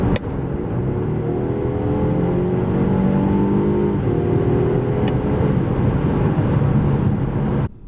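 Loud, continuous engine roar rises in pitch as a 2024 Volvo V90 T8 Polestar Engineered estate, 2.0-litre 455 hp plug-in hybrid, pulls from 90 to 140 km/h, then cuts off abruptly near the end.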